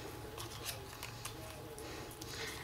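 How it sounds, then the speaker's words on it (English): Foam dimensionals being cut in half with scissors, a few quiet crisp snips in a row over a faint room hum. "Now we're going to take two dimensionals and cut them in half"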